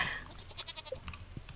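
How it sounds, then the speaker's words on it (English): Baby goat bleating on a farm in the Stardew Valley video game, a few short soft cries in quick succession over a faint, steady game background. "where's the baby goat?"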